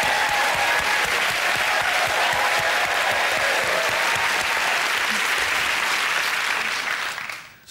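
A studio audience at a music quiz show applauding, loud dense clapping that carries on steadily and fades out at the end.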